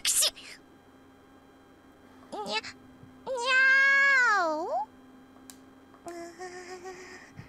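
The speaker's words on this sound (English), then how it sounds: "Oh, it's just a cat, huh? Just a troublesome cat." Cat meows from the Nekopara video game, a few short calls and then one long drawn-out meow, clear and close over a quiet electronic hum.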